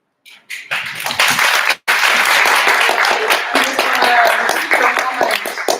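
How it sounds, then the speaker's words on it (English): Audience applause at a delegates' session of a veterinary students' symposium, dense and loud clapping that swells quickly, breaks off for a split second, then carries on steadily with a voice faintly underneath. "Hajar already heard the applause"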